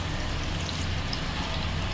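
Steady, close wash of liquid as Thai chilli sauce, vinegar and soy sauce are poured into a hot pan for chilli chicken, an unbroken rushing hiss throughout.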